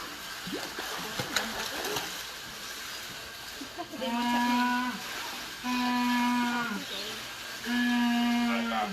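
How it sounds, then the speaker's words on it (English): A Humboldt penguin gives repeated loud braying calls, three long donkey-like honks with a steady pitch, over splashing water and faint background noise. "Just in case you didn't believe that that donkey noise is a penguin."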